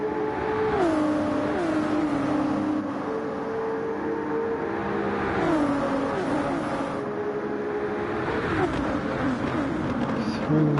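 A Pagani GT1 race car howls through a race, its engine note climbing and falling repeatedly through gear changes, loud and close, with other race cars blending into the steady roar.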